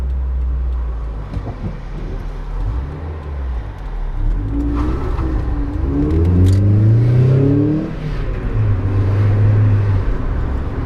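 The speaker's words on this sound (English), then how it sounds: "A little bit of wheel spin on the way out as well" A car pulls away with a bit of wheel spin, its engine droning loud and close, then rising through revving gear pulls in the second half, with no talk over it.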